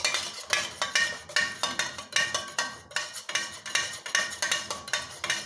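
Melted candle wax and orange dye being beaten in a pot, a rapid steady series of scraping, clinking utensil strokes against the metal, close and fairly loud with no voices.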